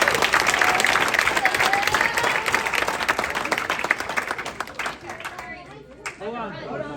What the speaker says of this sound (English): So I'll give these guys another round of applause.